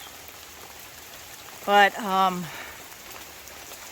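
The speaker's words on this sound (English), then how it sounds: "started raining." Steady rain falling in a mountain garden, a soft continuous patter throughout, with a short spoken word breaking over it near the middle.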